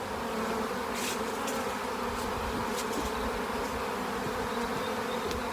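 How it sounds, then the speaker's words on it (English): Honeybees buzzing densely around an open hive during transfer to a new box, a loud continuous close-up drone of many insects with no talk. "Can you see all the flying bees gathering"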